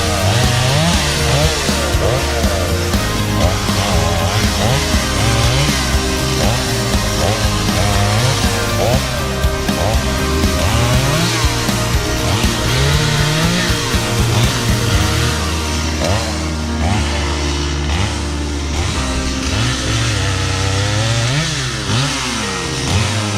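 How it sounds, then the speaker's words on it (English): A chainsaw cuts up felled trees during tree clearing work, the engine loud and close, revving up and down repeatedly as it bites into the wood, with a brief idle lull before more cutting. "grab the chainsaw, cut these up into manageable size pieces"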